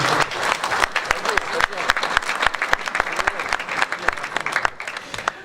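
An audience claps steadily and warmly, a dense patter of hands that stays even before tapering slightly at the end.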